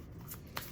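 Cards from a Vampire Tarot deck are shuffled in two quick riffling bursts close by, each lasting a fraction of a second, over a quiet room background.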